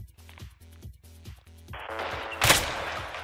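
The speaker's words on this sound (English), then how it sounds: "Oh, well, I had to shoot him." A burst of gunfire from Roblox Hellmet, a tactical shooter game, arrives late as one loud crack with a short rattling tail, following a run of rhythmic thumping game sounds.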